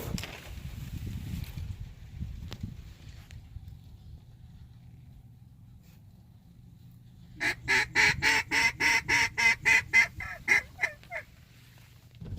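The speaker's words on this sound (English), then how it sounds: "Oh, look at all them ducks. Redheads galore." Redhead ducks on a Florida duck hunt burst into a rapid run of loud, nasal quacks and honks about halfway through, close by and repeated roughly a dozen times after a stretch of quiet rumbling outdoor ambience.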